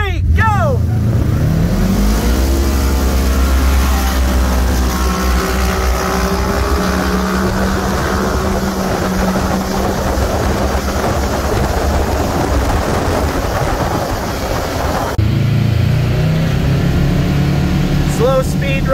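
Two Kawasaki KRX side-by-sides, one turbocharged and one stock, drag race from a dead stop, their engines roaring loud and close throughout, rising in pitch as they accelerate, then shifting briefly near the end.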